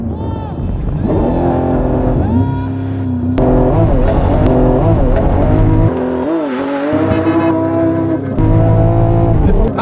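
Porsche Cayenne Turbo launching with launch control in sport plus, engine revving hard and climbing through gear changes with tire noise, loud and close, with people talking over it.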